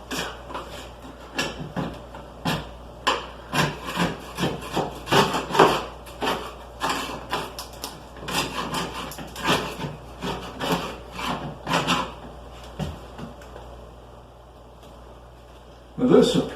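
Old tile grout and thin-set mortar being scraped out by hand, a steady series of close rhythmic rasping strokes that thin out toward the end, with a louder bump at the finish.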